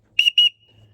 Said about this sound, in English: This whistle's pretty loud.